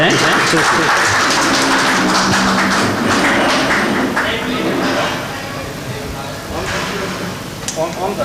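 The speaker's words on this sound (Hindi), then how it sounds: "एक बार जोरदार तालियां हो जाएं" Audience applause for Pandit Suresh Neerav at a Hindi satire recital, a loud, sustained wash of clapping filling the hall for several seconds, easing slightly toward the end with some voices underneath.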